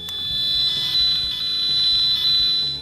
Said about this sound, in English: The detector sends a sound signal which aims to boot wiretaps.